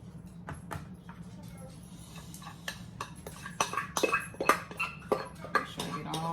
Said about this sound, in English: I'm gonna put it in this in my aluminum pan